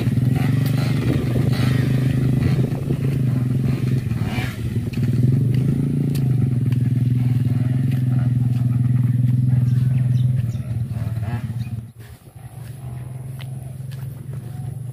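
Motorcycles ridden by young people rumble close by at Karang Sewu, with a steady engine drone, some revving and scraping clatter, before the noise drops off abruptly near the end.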